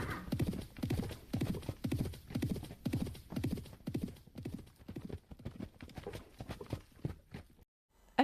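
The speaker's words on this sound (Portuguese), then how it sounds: "Chegaram dois tipos mal encarados a cavalo." Two horses arrive at a steady walk, hooves clip-clopping loud and close in an even, repeated rhythm for most of the stretch before trailing off, with a brief whinny.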